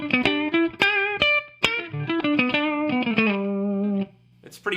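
An electric guitar on its bridge pickup plays a quick, bright, biting phrase with a sharp clean tone, sharp attacks and a sustained note, then briefly stops before a final pluck.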